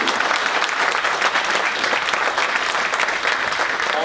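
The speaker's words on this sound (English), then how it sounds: "Can we have a huge round of applause for Tony?" An audience applauds a club's first speaker, Tony Silva, with dense, steady clapping that fills the room loudly and evenly throughout, without any voices standing out.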